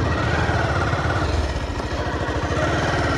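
Motorcycle on a road with its tyre seeming low on air: a steady, loud engine rumble with a fast pulsing beat and heavy wind noise, close and continuous, with no talk.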